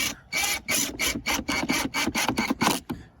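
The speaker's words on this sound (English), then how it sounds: "I'm going to tighten them up with the Torx gun here." A Torx power driver runs fender flare bolts into a Can-Am Defender in a rapid series of about ten loud, close buzzing bursts separated by short gaps.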